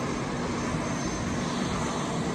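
Jet aircraft engine spooling up in a neighbouring hangar at Concord airport, a steady loud broadband roar holding level without pauses or voices.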